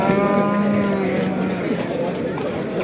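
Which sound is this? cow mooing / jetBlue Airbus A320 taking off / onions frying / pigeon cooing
cow mooing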